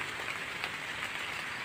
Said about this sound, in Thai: ตอนนี้ฝนตกแล้ว